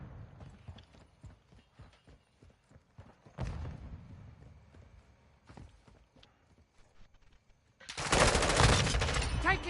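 Gunfire in a Call of Duty game: scattered sharp shots and clattering bursts, some faint and distant, ending in a loud, dense burst of fire up close.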